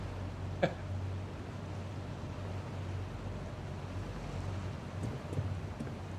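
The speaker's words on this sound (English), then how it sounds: "The water effects are not bad." Water and waves in the video game Tell Me Why: faint, steady wind-like surf ambience with a low rumble, one small knock near the start and a few soft splashes later.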